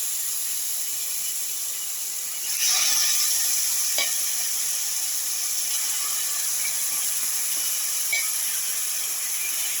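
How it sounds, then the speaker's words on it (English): Marinated meat goes into a hot pan with its marinade, giving a steady broadband hiss and sizzle that jumps louder partway through and then holds, with a few faint clicks and no voices. "Now put in the marinated meat with the marinade"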